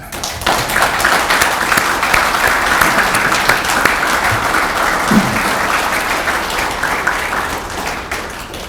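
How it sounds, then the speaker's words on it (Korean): A full hall applauds at a Korean defense industry society anniversary ceremony, dense continuous clapping from many people lasting several seconds, loud and close, with a brief faint voice partway through. "일어서시기 불편하시더라도 제가 큰 박수를 한번 부탁하겠습니다"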